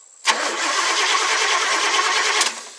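A 1994 Chevy truck's 7.4L gas engine cranks and catches, then runs at a steady, loud idle close by, with no talking.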